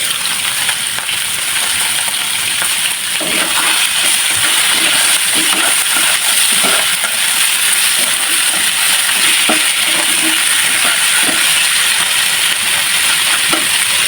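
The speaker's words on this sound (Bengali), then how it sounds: "ভাজা হয়ে গেছে এবার উঠিয়ে নিব" Food sizzles steadily in hot oil in a kadai while murighonto, a Bengali fish-head and rice dish, is prepared. The frying hiss is loud and constant, broken by soft stirring scrapes and bubbling pops, with no voices.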